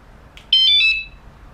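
A motorcycle alarm horn kit chirps briefly as it arms, giving a loud, sharp electronic tone that holds for about half a second and then cuts off, with a faint short beep just before it and quiet background otherwise.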